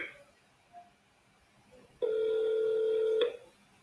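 A single steady electronic tone sounds for about a second after near-silence, clean and close like a telephone line signal during a call transfer.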